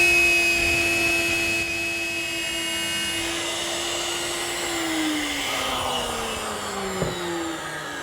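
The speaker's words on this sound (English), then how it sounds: "To make that groove, I've set up my router table with a 1/4-inch spiral bit." A router table fitted with a 1/4-inch spiral bit runs at a steady high-pitched whine while cutting a groove between mortises in a desk panel, loud and continuous with no talking.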